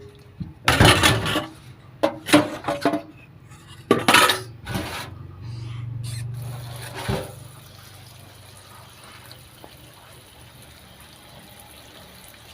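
Dishes, pots and cutlery being washed, with sharp clanks and clatters in the first half followed by a short run of water and quieter trickling as things settle.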